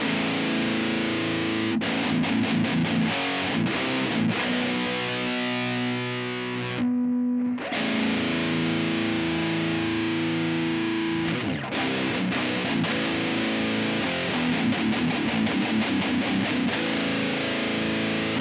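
A heavily distorted electric guitar through a Blackstar Dept. 10 distortion pedal on its first preset plays thick, saturated chords and riffs continuously, with a brief dip into a single sustained note midway.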